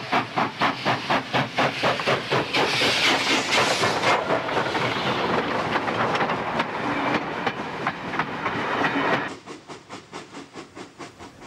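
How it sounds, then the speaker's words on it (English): NSW 36 class steam locomotive 3638 pulls out of Dubbo with mixed train No. 312 for Orange, its loud rhythmic exhaust chuffs beating steadily with hiss and rolling clatter, then fading to softer, more distant beats near the end. "'36-38 leaves Dubbo with number 312 mixed for Orange"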